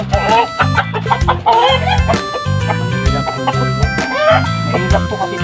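Close, loud chickens, native birds and Rhode Island Red crossbreeds, clucking and calling over one another in a busy, continuous stream, with a rooster crowing among them.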